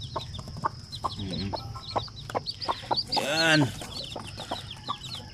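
Young chicks and hens cluck and peep in a new cage bedded with rice hulls, a busy mix of short calls with one louder drawn-out squawk midway, while a person speaks briefly nearby.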